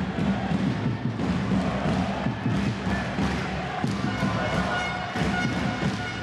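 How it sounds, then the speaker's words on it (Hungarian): Home spectators at an Érd handball match in a packed arena, clapping in steady rhythmic unison, a dense, continuous roar of claps and crowd noise with faint voices underneath. "Ahogy talán hallják, ez meghozza az érdi publikum hangját is. Ütemes taps."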